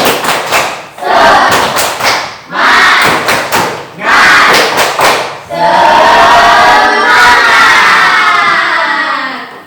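A class of students does the 'tepuk semangat' clap chant: loud bursts of rhythmic group clapping and shouting in several rounds, ending in a sustained cheer of many young voices.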